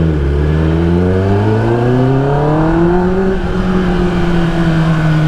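A 2024 Kawasaki ZX10R superbike engine revs hard to high RPM, its loud, close, rising howl climbing steadily and then holding a strained high pitch for several seconds, with no talk over it.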